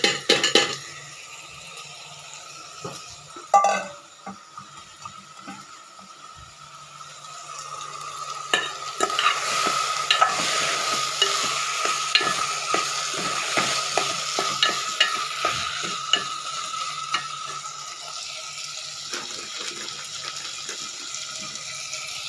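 Cut potato pieces frying in a pan: after a quiet start with a couple of clatters, a loud sustained sizzle sets in with rapid crackling and frequent stirring scrapes throughout, no voices.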